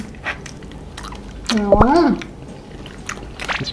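Pickled egg is chewed during a mukbang, with wet, squishy bites up close. A person talks briefly in between.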